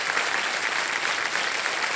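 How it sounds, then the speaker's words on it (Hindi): A studio audience on a television quiz show bursts into loud, steady applause, dense and continuous clapping close up with no gaps. "बहुत बहुत बधाई और ताली बज जाए आपके लिए"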